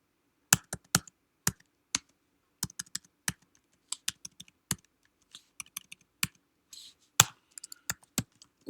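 Computer keyboard keys clatter in short, irregular bursts of typing, crisp and close against near silence, as credit card details are entered.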